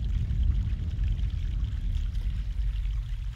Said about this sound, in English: let's go check out this brook that we keep hearing over here